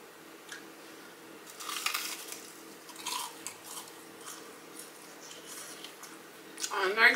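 Crunchy Flaming Hot Cheeto fried pickles being chewed close up with ranch, heard as faint, irregular crunching bites with soft wet mouth sounds and a louder crunch near the end.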